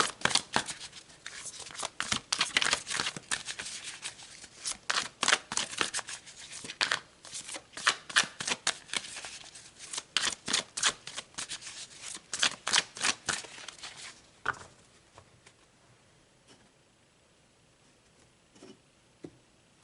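Tarot cards are shuffled by hand in rapid, close riffling bursts of crisp paper flicks that go on for about fifteen seconds, then fade to a few soft taps.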